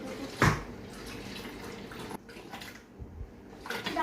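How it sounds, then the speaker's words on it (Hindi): Milk poured into a blender jar for an Oreo shake, a steady liquid trickle and splash under a quiet kitchen background, with a brief clunk near the start. "पहले हम लोग डालेंगे मिल्क।"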